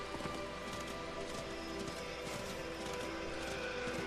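Hooves of a horse galloping in the video game Darksiders II, a faint quick patter under a constant wash of wind and snowstorm ambience, with no speech.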